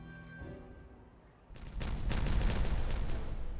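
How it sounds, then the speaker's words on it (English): Explosives detonating in the Timberborn video game: after a quiet musical stretch, a loud cluster of rapid blasts and rumbling crackle bursts out and keeps going to the end. "So I could maybe detonate those."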